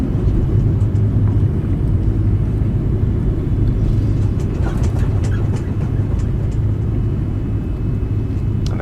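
A Boeing 787-9 taxis in the X-Plane 11 flight simulator with a steady, loud low engine rumble and a broad hiss that hold constant throughout, with no talking.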